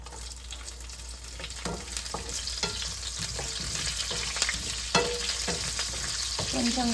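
Green chillies sizzle and crackle in a hot pan with oil, a steady frying hiss punctuated by small pops and a few stirring scrapes, fairly close.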